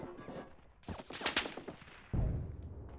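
Gunfire in the World War I shooter game Isonzo is aimed at the player: a rapid burst of crackling shots, then a second heavy blast, all fairly quiet and set against a low background rumble.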